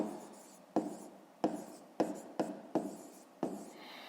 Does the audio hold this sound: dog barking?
no